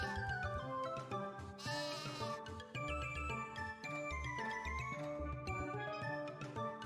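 Wavering sheep bleats from the Final Fantasy 3 video game repeat over a bouncy, tinkling game tune, recurring several times at a steady moderate loudness.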